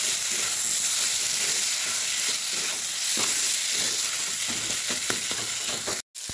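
Pangas fish pieces frying in a spiced masala in a village-style Bengali kitchen, giving a steady, close hissing sizzle with occasional stirring scrapes and clatters throughout, ending in a brief sharp knock.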